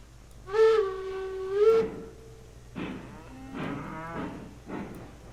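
Several cows moo in Railroads Online, with two long, loud, drawn-out calls followed by a few shorter, fainter moos, all quite close and with no voices.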